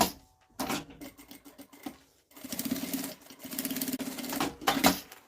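A sewing machine stitches fabric for a small cosmetic bag in several quick bursts of rapid mechanical chatter, close and clear, separated by short pauses, without any talking.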